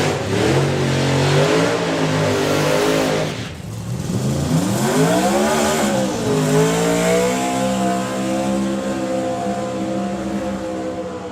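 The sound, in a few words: drag racing cars with blower and turbo engines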